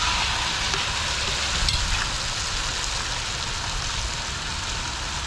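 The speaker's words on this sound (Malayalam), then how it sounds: "എടി ഇത്ര എണ്ണയിൽ കിടന്ന് മുരിയത്തില്ലേ" Shrimp for pickle fry in plenty of oil in a village kitchen, making a dense, loud, unbroken crackling sizzle that sounds close and steady throughout, without talking.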